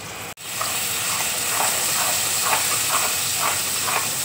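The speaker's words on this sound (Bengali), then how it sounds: "এবার দেখো ঘিয়ের মধ্যে আমি আমের পেস্টটা দেখো দিয়ে দিচ্ছি" Mango paste dropped into hot ghee gives a steady, loud hiss of steam and sizzle after a brief sharp hit, continuing evenly with faint stirring clicks while cooking a mango, semolina and coconut laddu.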